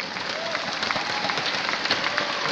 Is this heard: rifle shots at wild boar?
no